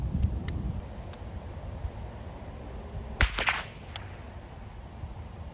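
A rifle firing .22 Long Rifle rounds at a target: a handful of sharp, light cracks at uneven intervals, a closer cluster of reports partway through, and quiet outdoor background between shots.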